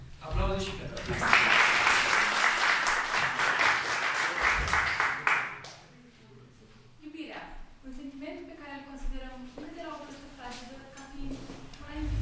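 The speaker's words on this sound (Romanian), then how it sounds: "Aplauze și pentru asta." Audience applause at a symposium in Onești bursts up loudly and holds for several seconds before fading, after which a voice speaks on over a quieter room.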